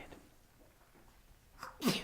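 A single short sneeze bursts out near the end after a quiet stretch, close and sharp.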